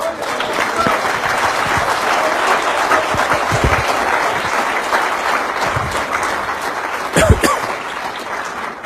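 An audience at a religious gathering breaks into sustained, loud applause, dense clapping that continues steadily with a few sharper claps near the end.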